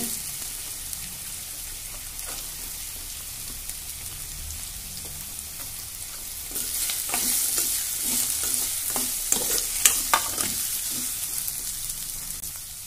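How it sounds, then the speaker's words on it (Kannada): Onion frying in a pan while being stirred for palak uppittu, a soft steady sizzle that grows louder midway, with scraping stir strokes repeating through the latter half. "ಈರುಳ್ಳಿ ಹಾಕ್ತೀನಿ."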